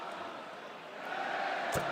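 Basketball arena crowd at a Villanova vs Saint Joseph's game reacting to a late foul call, a steady broad roar of discontent that swells toward the end, with a brief sharp burst near the finish.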